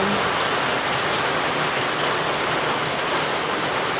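Steady rain pours down, a dense continuous hiss of drops striking surfaces, unbroken and fairly close.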